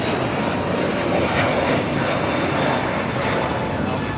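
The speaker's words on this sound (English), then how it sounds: "That was United Airlines 2113 taking off to Chicago on the A321neo." A United Airlines Airbus A321neo takes off from LAX, its engines giving a loud, steady roar that holds at full strength through the whole clip with no pause.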